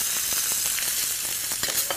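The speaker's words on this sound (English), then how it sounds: "Now we want to saute the green peppers for up to 5 minutes." Green peppers with asafoetida and turmeric frying in ghee give a steady, close sizzle with soft crackles and brief spits throughout, and no one speaks.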